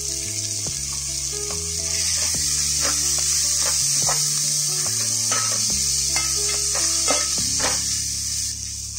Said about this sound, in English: and give this a quick stir